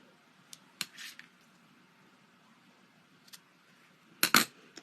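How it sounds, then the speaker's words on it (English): Scissors trim ribbon on a handmade accordion-fold card, giving a few sharp, close snips, a single early cut, a quick double snip, and a louder cluster of cuts near the end, separated by near silence. "I'm going to take my scissors and trim this"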